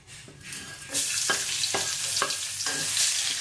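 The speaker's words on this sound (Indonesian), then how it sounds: "Oke, kita tumis bumbu yang diiris tadi." Sliced spices hit hot oil and burst into a loud, close sizzle. The sizzle keeps going under several rhythmic stirring scrapes, with no speech.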